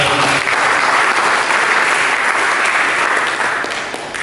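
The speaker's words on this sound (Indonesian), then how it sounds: "Berikan tepuk tangan" A church congregation breaks into loud, full applause during a sermon, a dense continuous wash of many clapping hands that stays strong before easing slightly at the end.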